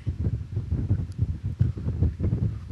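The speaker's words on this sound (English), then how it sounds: "We hear the wind." Wind blowing outdoors, buffeting the microphone in low, rumbling gusts that rise and fall in quick pulses, fairly close and with no voices.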